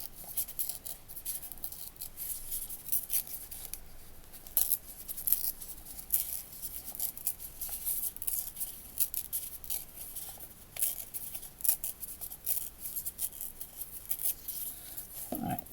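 Scissors trimming photo-negative style filmstrip paper for a craft project, a quiet series of close, crisp snips and paper rustles scattered irregularly across the stretch, with no talk.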